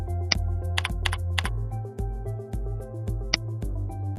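Computer keyboard typing during an expense report entry in a software demo, a few sharp key clicks scattered over steady low background music, with no voice.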